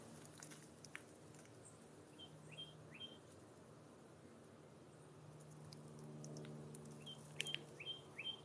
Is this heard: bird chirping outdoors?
yes